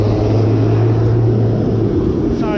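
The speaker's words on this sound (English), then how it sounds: "Sorry for the loud ass truck there." A loud truck passing close by, a heavy continuous engine rumble with a steady low drone that holds for about two seconds, then eases off as it moves away.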